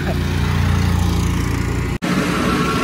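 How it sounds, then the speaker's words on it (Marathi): A Yamaha MT-15 motorcycle engine runs steadily close by during off-roading, a continuous rumbling drone with a momentary dropout near the end. "गाडीचा आवाज कंटिन्यूच येतो"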